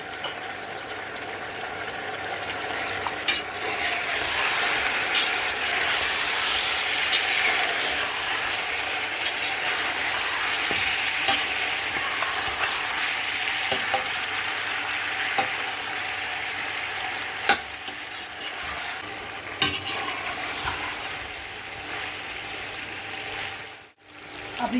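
Medium tomatoes sizzle and fry in a pot of chicken pulao, a steady, close hiss with faint stirring scrapes running throughout.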